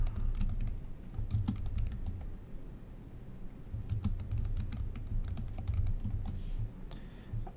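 Typing on a computer keyboard in a chat client makes a run of quick, light key clicks in uneven bursts, close by over a low room hum.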